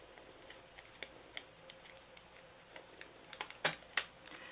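Scissors make a few sharp, quiet snips on craft paper while a donut box is being assembled. The cuts come as scattered clicks, with a cluster of crisper cuts near the end.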